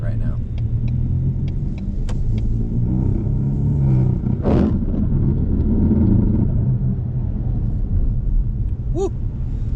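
A Ford Mustang sports car pulls onto a snowy road at full throttle, its engine a steady loud rumble throughout with a brief surge near the middle, and a voice shouting near the end.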